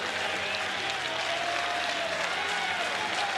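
Dense, sustained roar of a large baseball crowd at an NCAA super regional game between Florida and Clemson, cheering steadily at full volume throughout without a break.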